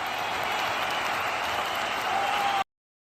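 A crowd breaks into steady, dense applause that holds evenly for over two seconds, then cuts off abruptly into silence.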